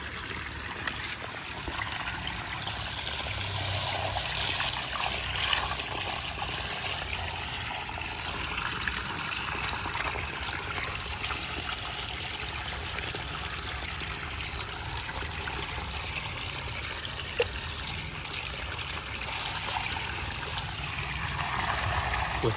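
Water trickles and pours continuously into a tank holding an alligator gar, a soft steady splashing stream with a few faint knocks and no voices.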